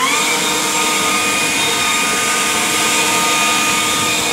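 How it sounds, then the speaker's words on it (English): A WORX 40V cordless leaf blower runs steadily while clearing debris off a wooden deck, a loud, close, continuous high-pitched whoosh with a whining motor tone and no pauses. "let's use our Worx leaf blower to clean it off."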